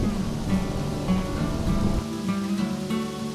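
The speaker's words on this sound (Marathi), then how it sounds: "1 मिनिटही पाऊस थांबला नाही." Steady monsoon rain pours without pause at Harishchandragad fort, a dense wash of broadband noise holding at an even level throughout, with low tonal hum underneath and no talk.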